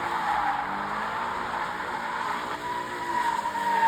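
Sports car drifting in circles around a cone in a skatepark-style lot, a sustained loud tire squeal and screech with engine droning beneath, swelling louder toward the end.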